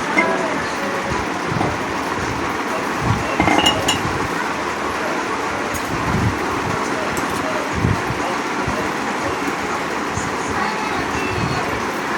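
Two teacups clink as masala tea is strained into them in a home kitchen, giving a few light ceramic taps and knocks near the start, over a steady background hiss with some low thumps and handling noise.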